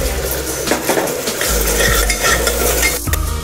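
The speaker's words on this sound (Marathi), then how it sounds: "आपण तिला तेलामध्ये चांगली तळून घेऊया" Chopped bell pepper fries in hot oil for pav bhaji, a steady sizzle with a spoon repeatedly scraping and clinking against the pan, close and fairly loud throughout.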